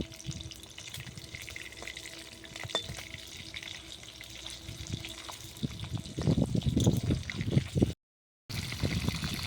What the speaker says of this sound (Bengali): শুধু এই পিঠটা ভেজে নেবো, খুব লাল করে ভাজার দরকার নাই।